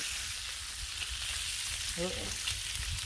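Breakfast frying on a Blackstone flat-top griddle, a steady close sizzle of food in grease running throughout with a brief spatter burst midway.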